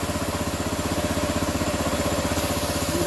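Small gasoline pressure washer engine running steadily up close, a dense, fast-pulsing drone with constant vibration and no pause.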